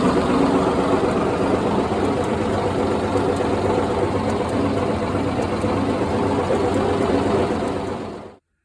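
A dump truck engine powering a farm sawmill runs at a steady idle for several seconds, a constant low rumble with no voices, before it cuts off abruptly.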